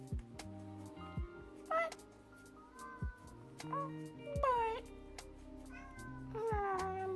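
A pet cat meows repeatedly with rising, pleading cries while it begs for food again after dinner. Each meow is close and fairly loud, set against steady background music, with a person's soft voice briefly under it.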